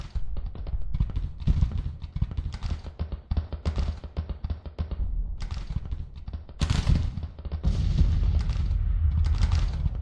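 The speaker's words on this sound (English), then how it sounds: "this artillery" Artillery and musket fire roll across a Grand Tactician: The Civil War battle, a continuous crackle of overlapping shots and booms with heavier bursts swelling near the end.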